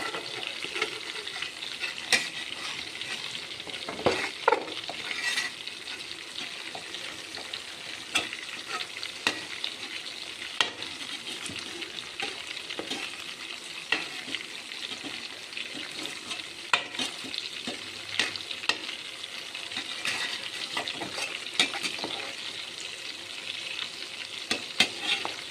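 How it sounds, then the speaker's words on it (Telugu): Fish pieces sizzling in oil in a white pot at home, a steady busy hiss and crackle throughout with occasional louder pops and light clinks of a ladle against the pot, no talking. "తెల్ల గిన్నెలో ఫ్రై చేస్తున్నానండి"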